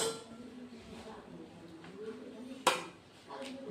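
Rice being served onto a plate in a home kitchen, with soft scraping and a single sharp clink of a utensil against the dish near the end, and quiet voices in the background.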